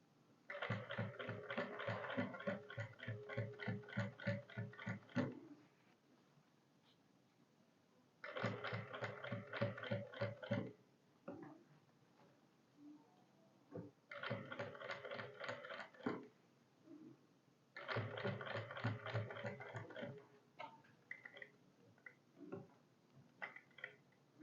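A sewing machine stitches piping onto a V-cut band in four bursts of rapid, even needle clatter. Short quiet pauses between the bursts hold faint handling sounds.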